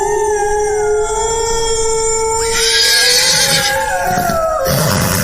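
Spooked horses whinny in a horror audio drama, with long, high, wavering neighs layered over one another, loud and close, joined by a rougher burst of stamping and snorting noise near the end.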